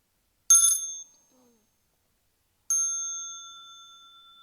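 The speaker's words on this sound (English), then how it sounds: "Let us listen to one sound of the bell." A mindfulness bell is struck twice in a quiet room: a brief light tap first, then a full clear ding whose bright ringing tone slowly fades away.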